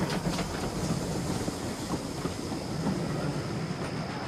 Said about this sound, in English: Stepney puffed away into the night